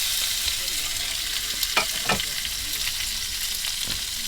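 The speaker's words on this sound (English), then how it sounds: "And then we'll just fry those off" Potatoes fry in olive oil and butter in a pan with a steady close sizzle, broken by a few brief scraping stirs, with no voices.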